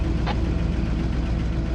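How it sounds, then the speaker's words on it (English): A car engine rumbles steadily at close range, a low continuous drone with a brief higher burst near the start. "Mike, go ahead and start your engine."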